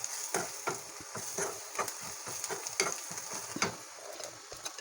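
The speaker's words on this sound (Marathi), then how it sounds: "आणि त्यानंतर आपण सर्व मसाले तेलामध्ये परतवून घेऊया" Spices and chicken masala for egg bhurji fry in oil in a pan, a steady close sizzle broken by rhythmic scraping strokes of a stirring spoon, with no talking.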